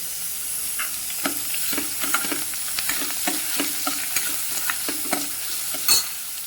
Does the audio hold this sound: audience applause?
no